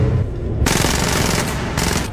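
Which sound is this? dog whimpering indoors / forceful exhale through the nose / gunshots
gunshots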